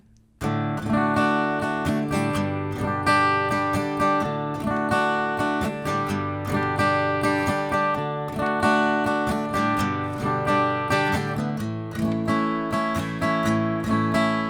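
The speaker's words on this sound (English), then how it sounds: "Now I'll keep that strumming going that we played from the intro." A guitar strums chords steadily through a progression, full and close, with a bright even rhythm and no voices.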